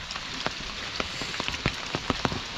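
Rain falling steadily on a surface, with scattered sharper drop taps standing out from the constant patter.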